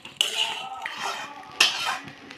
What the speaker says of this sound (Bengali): চিনিটা দিয়ে আবারও নাড়াচাড়া করে নিচ্ছি একটু